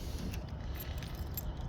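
Keys jangling inside a Toyota Hilux, a few faint, light metallic clinks over a quiet, low background hum.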